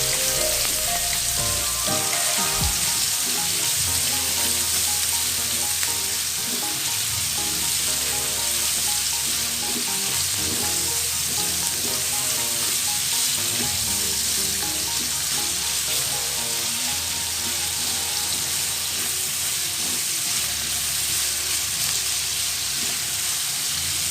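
Minced beef sizzles steadily in a hot pan, a constant close crackle and hiss with occasional stirring scrapes and a low hum running underneath throughout.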